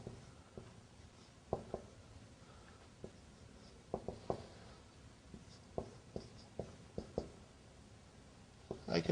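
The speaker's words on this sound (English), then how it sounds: "I'm writing the explanation" Pen or chalk writing out an explanation, faint scratchy strokes and sharp taps coming in irregular bursts, close and quiet against a low background hum.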